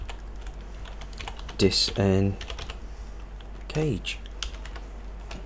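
Keys clatter on a computer keyboard while text is entered for a 3D-printed knob design, a steady run of close, quick taps with a few brief spoken words over it.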